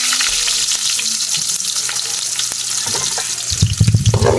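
Onions frying in a pan for cooking bagungon snails, a steady broadband sizzle with stirring scrapes, swelling louder near the end as the pan is worked.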